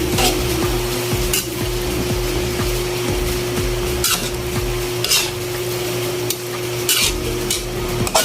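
A utensil scrapes and stirs tofu in a cooking pot in a repeated, steady rhythm, over a constant sizzle and hum, with occasional metallic clinks against the pot.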